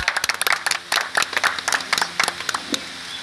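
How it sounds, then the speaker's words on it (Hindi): Audience applause welcoming a guest at a village devotional yagya gathering: a dense patter of many hands clapping, steady and lively throughout, with no voices over it. "जोरदार तालियों से इनका स्वागत।"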